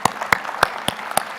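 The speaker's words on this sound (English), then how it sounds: "yeah, that's worth clapping for." A few scattered, evenly spaced claps ring out in a large hall at an industry opening session, about five sharp hand claps with quiet gaps between them.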